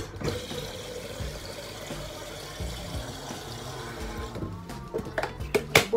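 Tap water runs steadily into a cooking pot being filled for boiling, a continuous close rushing fill with a few clinks toward the end.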